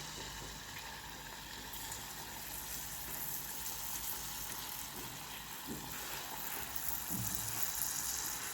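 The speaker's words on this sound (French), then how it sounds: "je vais commencer la friture." Banana fritters fry in hot oil, giving a steady, soft sizzle with faint bubbling that continues evenly throughout, fairly quiet and close, with no talk.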